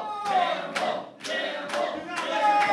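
Wrestling crowd at a live indoor show clapping in rhythmic bursts, several swells of applause rising and fading across the moment, moderately loud and without clear speech.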